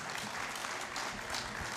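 Audience applause welcoming the All India Memon Jamat president at the Memon Merchants Association and Memon Jamat Parbhani 100th anniversary celebration, a steady dense clapping from a crowd filling the hall throughout.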